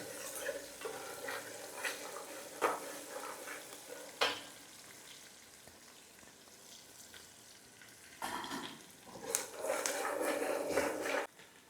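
Finely chopped onion frying in oil for a fish curry, a soft sizzle with intermittent stirring clatter, then a louder burst of frying toward the end, close by with occasional faint voice.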